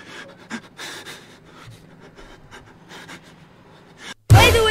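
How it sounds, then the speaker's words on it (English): Heavy, ragged panting from a character in the horror video game Outlast, close and steady for about four seconds before a sudden loud burst of noise cuts in at the end. "Can you stop breathing like that, please?"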